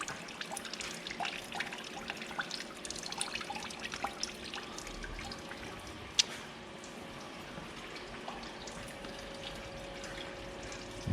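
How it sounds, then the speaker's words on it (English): Oil dripping from the exhaust area beneath a Jeep TJ during engine removal: faint irregular drips and trickling over a low background hum, one sharper drip near the middle. "Oil leaking."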